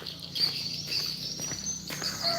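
Birds chirp and tweet in short, scattered calls near Mount Rinjani in Lombok, fairly faint against a background of insect-like buzzing and light ambient noise.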